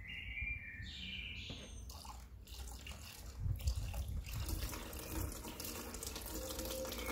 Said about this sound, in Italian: Adesso metto la benzina nell'acqua, faccio vedere come la benzina scende.